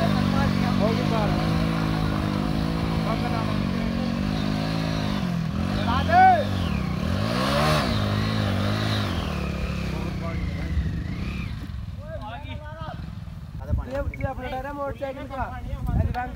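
A Hero Splendor motorcycle engine runs while the bike is being ridden off-road, its droning hum rising and falling with revs, while people talk and shout over it later on.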